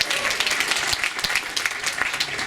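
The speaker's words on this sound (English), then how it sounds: "That clap is only for Kate and Rachel, right?" Audience applauding at an expedition team recap and briefing aboard a Seabourn cruise ship in Antarctica, with steady, dense clapping that keeps up throughout.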